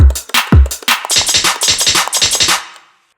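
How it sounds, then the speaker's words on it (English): A tight drum and bass finger-drummed pattern opens with kick and snare, then runs into quick, evenly doubled hi-hat ticks layered over the beat, close and loud before stopping. "You can do the previous doubling up pattern with different hi-hats, like this."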